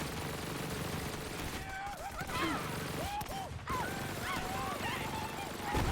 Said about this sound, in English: When you're firing this gun, and you're firing from the hip, or even if you're in zoom mode